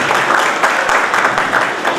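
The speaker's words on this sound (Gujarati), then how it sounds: "નિલેશભાઈ માટે જોરદાર તાળી થઈ જાય" Dense applause from a gathered crowd at a community welcome event, sustained and fairly loud throughout with a slightly rippling rhythm of many hands clapping.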